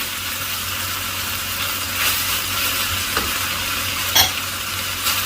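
Vegetables with spring onion are stir-fried in a hot pan for spring roll filling, giving a steady close sizzle with occasional scraping stirs and a brief clink, and no talking.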